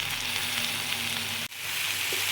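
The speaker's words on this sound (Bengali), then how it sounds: "এই যে জিরা ফোড়ন আর আদা বাটা দিলাম" Cumin seeds and ginger paste sizzle in hot oil in a pan, a dense close frying hiss that cuts out for an instant midway before resuming just as strong.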